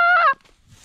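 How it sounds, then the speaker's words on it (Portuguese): A single loud, nasal duck quack rings out briefly and then falls quiet. "É um pato!"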